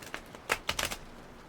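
Tarot cards being shuffled by hand, heard as a few short, faint bursts of papery riffling and snapping spread over about a second and a half.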